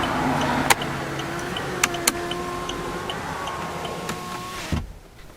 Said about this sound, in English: So just put up the windows.